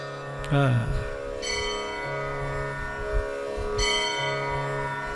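A bell rings in repeated, sustained metallic strikes during a Devi Bhagavat religious discourse, its tones ringing out over a steady low drone at moderate volume.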